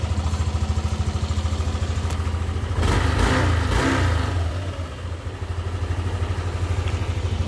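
A freshly overhauled 155 cc scooter engine idles steadily with a fast, even pulsing beat, briefly revving louder in the middle before settling back to idle.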